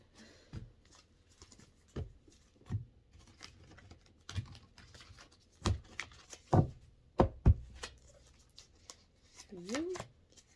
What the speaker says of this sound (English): I've been shuffling, but I like to shuffle a little more with you all.